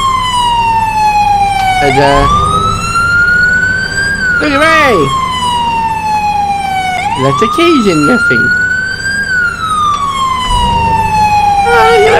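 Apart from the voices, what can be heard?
emergency vehicle sirens in Farming Simulator video game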